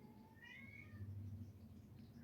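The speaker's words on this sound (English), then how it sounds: "Oh, there goes another kitty." A house cat meows indoors in a home with several cats: a single high, drawn-out call, moderately clear, over a low steady background hum.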